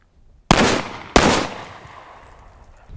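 Two very loud, close revolver shots from a Smith & Wesson .460 XVR with a muzzle brake, fired about half a second apart outdoors, each with a long booming decay.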